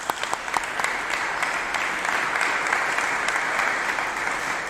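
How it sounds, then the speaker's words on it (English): Steady, full audience applause at a club dedication ceremony, a dense wash of many hands clapping continuously at moderate distance with no pause. "so give them a round of applause."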